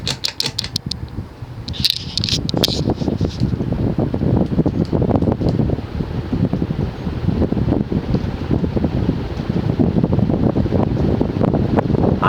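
Quorum Gallery 60-inch ceiling fan with steep-pitched blades spinning on its high speed setting, giving a steady, loud rushing whoosh of moving air throughout, with a brief brighter rattle near the start and no talk.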